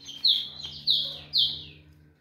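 A caged tico-tico, or rufous-collared sparrow, gives three clear, bright chirps at an even pace. The calls are close and loud over a faint low hum, with no talking.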